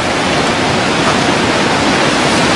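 Tsunami seawater rushing in as a dense, loud, unbroken roar of churning water, with no break or other sound.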